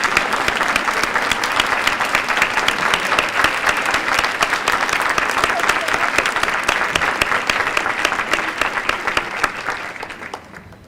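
Sustained applause from an audience standing at an annual meeting of Invest in Children, steady dense clapping throughout that fades off near the end.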